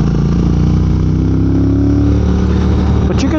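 A Triumph Speed Twin motorcycle rides along a muddy road, its engine droning loud and steady throughout with rising and falling revs and wind rush.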